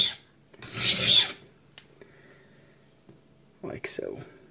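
A knife drags across a coarse Atoma 140 diamond plate in two rasping strokes, one loud and one softer, close up with quiet gaps between them.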